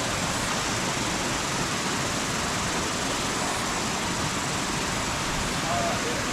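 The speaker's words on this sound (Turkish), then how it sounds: "Onun altında başka bir şelale var." Rainbow Falls in Kerikeri sends up a constant broadband roar of falling water, steady and fairly loud, with no change across the stretch.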